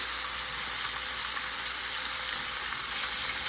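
Sous vide chicken wings frying in hot oil, a steady dense sizzle with a continuous crackling hiss that stays even and close throughout, no voices.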